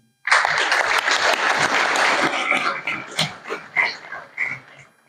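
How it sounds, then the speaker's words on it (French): Enthusiastic applause from an audience at a community talk, loud and dense clapping at first, then thinning into scattered, uneven bursts before fading. "Et c'est des personnes qu'il faut applaudir."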